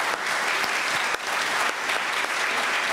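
Steady, full applause from an audience at a GFCC scholarship event, a close, continuous roar of many hands clapping for the recipients without pause.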